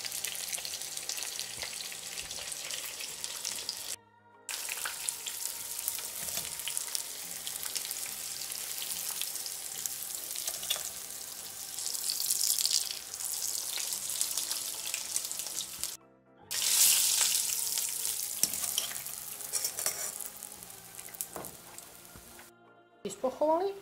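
Breaded butter pork chops fry in a pan, giving a steady broadband sizzle and crackle with watery hissing, broken by a few short gaps of near silence; no one speaks.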